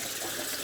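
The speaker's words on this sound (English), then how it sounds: "We'll rinse the face off real quick." Tap water running steadily as a face is rinsed after a shave, a close, continuous broadband splash with no voices.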